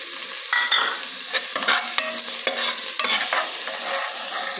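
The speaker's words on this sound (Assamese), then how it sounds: "এতিয়া অকণ ভাজি ল'ব লাগিব ভালকৈ।" Green chillies, ginger and garlic sizzle in a pan, with a steady frying hiss broken by repeated scraping and stirring strokes close by.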